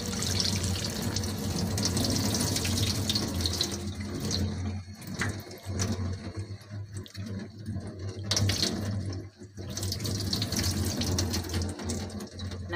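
Water pours and gushes over bean sprouts in a pot or basin for several seconds, close and steady, with brief dips where the flow falters before resuming.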